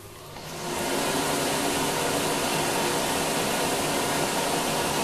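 A DBU smoke exhauster fan, fitted to a 180 mm flue flange of a boiler chimney system, starts up and quickly reaches a loud, steady broadband whoosh that holds constant without other sounds.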